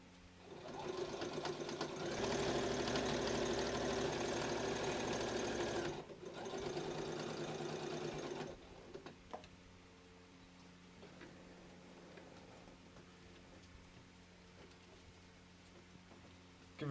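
A sewing machine stitches around a bag lining in a loud, fast rattling run with a short pause, then stops, leaving quieter room sound and small clicks.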